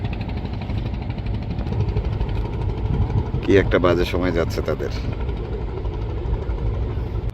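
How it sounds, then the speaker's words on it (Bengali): A Sundarbans fishing trawler's engine runs with a steady low throbbing drone, close and loud, while someone talks briefly over it midway. "ট্রলারগুলো চলছে ছন্দে ছন্দে"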